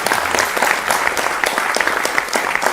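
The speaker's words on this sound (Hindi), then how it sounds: "अरे ताली तो बजा दिया करो ना।" An audience at a political speech applauds steadily, a dense, loud wash of many hands clapping at once that holds at an even level throughout, with no voice standing out above it.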